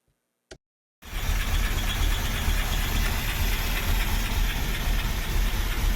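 A 1939 Buick Coupe engine needing a cam replacement starts after a brief click and runs steadily with a rough, rumbling idle that stays loud throughout.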